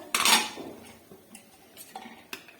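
A lid comes off a cooking pot with a loud metallic clank at the start, followed by a few lighter clinks and taps of metal nearby.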